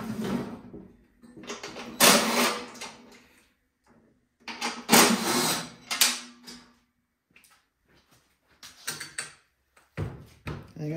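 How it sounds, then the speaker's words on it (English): Bolts being removed from the side of a PowerSmart snowblower with a tool: irregular bursts of metallic ratcheting and rattling, each a second or two long, separated by short silent pauses. "So we're gonna take the three bolts out on the side."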